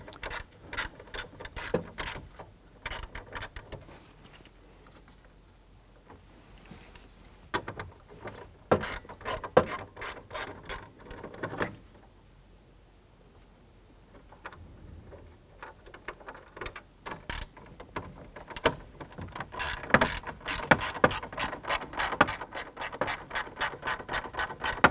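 A 9/32 ratchet backs out screws beneath the ignition switch of a 1993-1997 Ford Ranger, with bursts of rapid clicking pawl strokes, near and crisp, broken by brief quiet pauses while the tool is repositioned.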